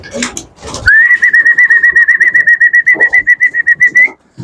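A pigeon's rapid, pulsing call rolls on steadily for about three seconds, close and fairly loud at a pigeon loft, after a moment of voices and rustling.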